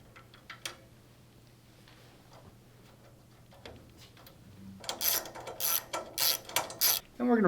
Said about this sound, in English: simply set my screw